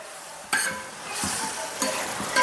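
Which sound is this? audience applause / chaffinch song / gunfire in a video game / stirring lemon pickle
stirring lemon pickle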